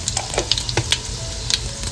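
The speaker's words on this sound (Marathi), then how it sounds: "इकडे आता 1 चमच आपण राई घालून घेतोय" Mustard seeds crackle in hot oil in a wok with garlic for tempering, giving a continuous sizzle broken by quick scattered pops and spits up close.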